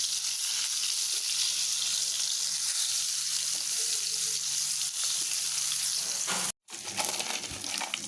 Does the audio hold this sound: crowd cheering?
no